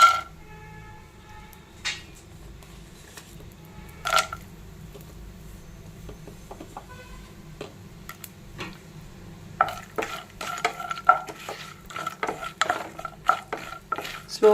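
Almonds and nuts frying in ghee over a slow flame for sweet seviyan, a faint low sizzle broken by sparse clinks of a spoon on the pan that turn into brisk stirring scrapes toward the end.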